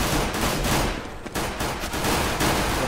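Dense, continuous gunfire from a Counter-Strike: Global Offensive match on the Dust2 map, with rapid overlapping shots filling the clip and only a brief lull near the middle.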